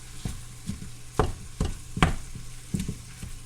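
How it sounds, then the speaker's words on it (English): Empanada filling stirred and browned in a pan, with a soft sizzle beneath a series of scraping spoon strokes about every half second, close and fairly quiet. "I just mix all of this together to brown it like that"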